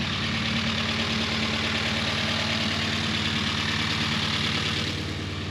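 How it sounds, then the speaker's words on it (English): A car engine idles steadily after being started, a continuous even rumble with a faint knocking pulse, close and alone with no talk. "It's been idling for a bit, and then we'll take it for a drive."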